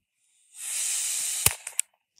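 A PepperBall TCP self-defense launcher fires outdoors: a rising airy whoosh holds for about a second, then a sharp crack and two smaller pops follow, with a tiny tick after, and nobody speaks.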